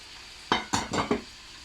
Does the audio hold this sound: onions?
yes